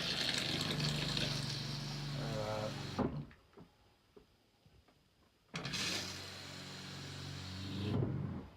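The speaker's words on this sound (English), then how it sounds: "I'm going to flush here a little bit." An RV toilet flushes during winterizing, giving a loud rushing gush of water that stops abruptly, goes near silent, then surges again at close range.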